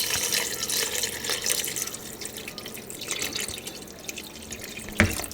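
Water pours and splashes into a pot of chitterlings in a home kitchen, a continuous close, bubbling trickle that rises and falls, ending with a small knock; no one speaks.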